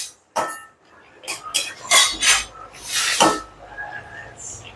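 A utensil clinks and scrapes in a pan as fish heads are stirred with turmeric and cumin for a Bengali dish with Malabar spinach, coming in short irregular bursts of clatter with some quiet stretches between.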